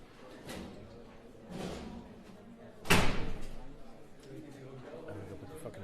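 A door slams once with a sharp, loud thud at a press conference venue, standing out over murmured chatter and a couple of softer knocks.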